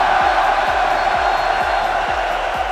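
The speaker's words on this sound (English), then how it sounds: "I mean, you hear the crowd." A live crowd at the Rocket League Paris Major cheers and roars in a sustained wash of noise, with rhythmic low thumps like stomping or clapping pulsing under it.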